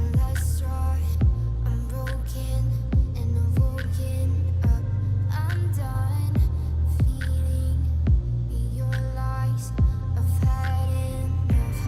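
A Cirrus SR22 piston engine runs steadily in Microsoft Flight Simulator while its fuel mixture is leaned, giving a close, even droning hum with regular throbbing pulses and no voices over it.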